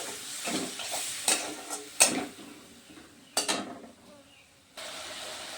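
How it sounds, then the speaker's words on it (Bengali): Spices with tomato cooking in a pan with a little added water for a Bengali maan kochu dish, with intermittent clinks of a spoon against the pan over a soft, low sizzle, close by and fairly quiet. "জল দিয়ে একটু মশলাগুলোকে কষিয়ে নেব"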